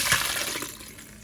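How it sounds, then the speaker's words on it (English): Washed mulberries and water poured from a pot into a colander for keto mulberry jam, a short close splash and rush of water that tapers into a softer trickle. "You can just transfer your berries over into the colander, pour it right in there."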